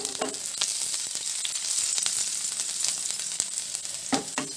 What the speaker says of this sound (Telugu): ముందుగా ఆయిల్ అయితే హీట్ ఎక్కింది, ఇప్పుడు సన్నగా కట్ చేసుకున్న వెల్లుల్లిపాయలు వేసుకుందాము.